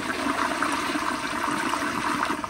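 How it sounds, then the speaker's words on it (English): A 1994 Kohler Wellworth Lite elongated toilet flushes with a loud, steady rush of water that carries on close and unbroken throughout. "So here's a flush."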